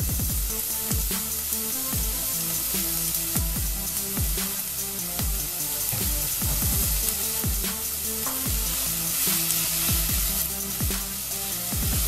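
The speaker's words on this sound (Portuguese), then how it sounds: "Vamos refogar essa cebola até ela ficar douradinha." Onion sautés until golden in a pan for a Brazilian shrimp bobó, a loud, dense sizzle broken by frequent rhythmic scrapes and knocks of a spoon stirring, close and with no talking.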